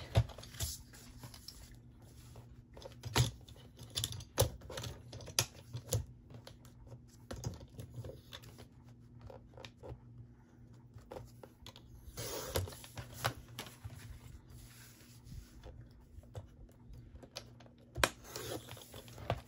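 Paper being trimmed for a Christmas travelers notebook, with close, irregular soft clicks, taps and brief scrapes scattered over about twenty seconds above a faint steady hum, and no talking.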